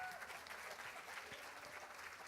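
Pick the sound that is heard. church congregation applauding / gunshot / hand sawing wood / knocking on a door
church congregation applauding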